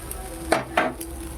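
An egg omelette fries in mustard oil in a pan, with a steady low sizzle broken by two sharp scraping strokes, as if the spatula is turning it, and no voices.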